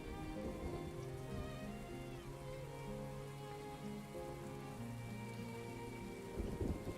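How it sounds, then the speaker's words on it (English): Spring rain falls steadily in a video game, a constant wash of drops with a low rumble and background music tones underneath, no voices. "when it's raining in the spring like this, your wells will actually fill up a lot more"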